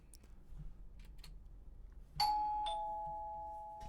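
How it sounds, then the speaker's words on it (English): A doorbell rings once with a clear two-tone chime that lingers and fades in an otherwise quiet room. "And then a doorbell."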